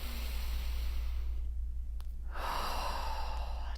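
Deep, slow breathing using the rib cage and diaphragm: a long airy exhale, a brief pause, then another breath, heard close over a steady low background hum.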